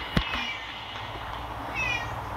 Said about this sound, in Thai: ถ้าได้ยินเสียงแมวขอโทษด้วยนะฮะแมวมันเข้ามาร้องอยู่ไว้แล้ว